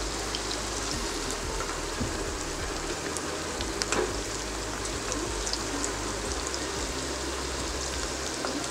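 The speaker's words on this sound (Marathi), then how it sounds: "दुसऱ्या बाजूने पण छान फ्राय करून घेऊया।" Rava semolina cutlets frying in a pan of oil, a continuous soft sizzle and fine crackle with occasional louder pops, close and steady with no talking.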